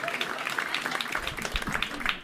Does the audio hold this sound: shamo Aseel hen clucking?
no